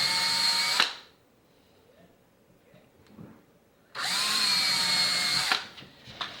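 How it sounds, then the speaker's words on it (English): A power drill bores a pilot hole about a quarter inch deep into the wood of a homemade soap mold, with two loud sustained whines separated by a quiet pause and no talking. "Just down 1/4 inch or so to drill the pilot hole."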